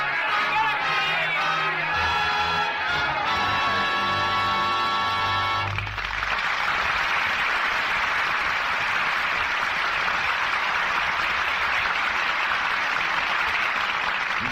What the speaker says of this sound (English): the crowd was coming, chanting its hate, screaming for blood